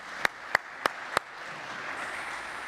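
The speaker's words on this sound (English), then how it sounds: "I want to give them a round of applause" Four sharp, evenly spaced claps ring out near the microphone, followed by a soft, diffuse patter of scattered clapping from a church congregation thanking the youth praise team.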